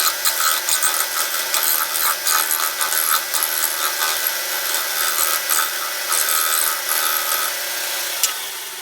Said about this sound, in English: cut that sprue away with my spindle gouge